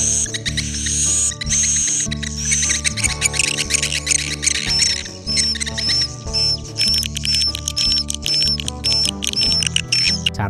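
Recorded swiftlet calls from inside a cave play back as dense, repeating electronic-sounding chirps and twitters, loud and continuous with rhythmic pulses.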